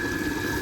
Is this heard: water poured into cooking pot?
yes